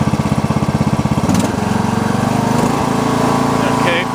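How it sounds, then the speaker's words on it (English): A Snapper NXT lawn tractor engine throttles up from a pulsing idle to a steady, louder running drone, heard close by. "Let me turn the engine up a little bit."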